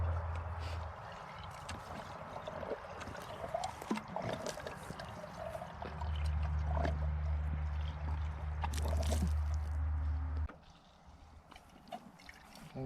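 Water pours and trickles steadily at close range into a shallow well pipe, with a low hollow rush and scattered clatter, then quiets toward the end.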